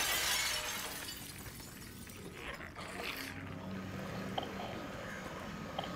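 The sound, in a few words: glass windows smashing in the video game Silent Hill 2 Remake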